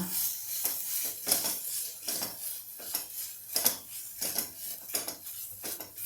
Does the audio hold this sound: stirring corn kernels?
yes